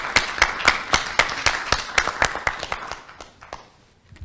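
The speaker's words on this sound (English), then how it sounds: "Let's welcome him with a warm applause" Audience applause welcoming a keynote speaker at a seminar: a burst of sparse, distinct hand claps from a modest crowd that gradually thins and fades over a few seconds, with no talking.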